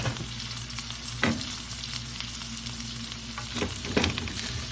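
Tabayag (bottle gourd) with sardines fries in a covered pan, giving a steady, close, even sizzle with a couple of soft knocks from the lid or utensil.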